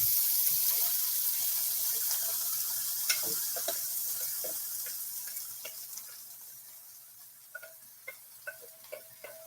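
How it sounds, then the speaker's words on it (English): Vegetables sizzle in oil in a pan over medium-high heat: a steady bright hiss that slowly fades, dotted with small pops and clicks, with no one talking. "I'm going to take all my vegetables and they're going to go in this pan"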